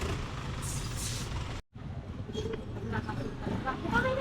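A vehicle, likely a truck or bus, rumbles past on a town road near a market in Lopez, Quezon, with a brief hiss like an air brake, while people talk over the steady traffic noise.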